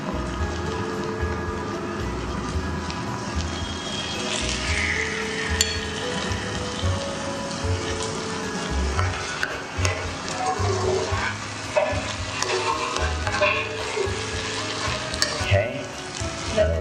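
Pepper fries and is stirred in a pot for Eforiro, a Nigerian vegetable stew, making a continuous hissing sizzle broken by repeated scraping stir strokes, close up, with faint voices now and then.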